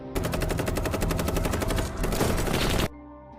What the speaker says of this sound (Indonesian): Uskup Agung ini diberondong peluru oleh kelompok bersenjata bersamaan dengan serangan kelompok Avendanos terhadap Capo.